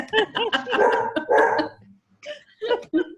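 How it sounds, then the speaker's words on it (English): A small dog barks several times in quick bursts, close and fairly loud, with people talking around it and a brief quiet gap before a few more yips. "Oh, he's a lovely dog."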